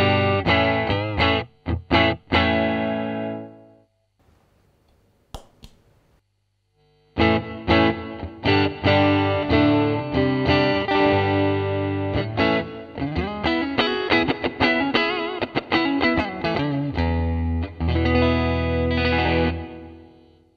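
Dry electric guitar played through a Fender Pro Junior amp with no reverb, heard as plucked chords and single notes. A brief pause near the start gives way to a busier strummed passage, close and clear.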